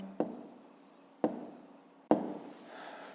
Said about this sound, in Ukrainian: давайте я тут допишу деталі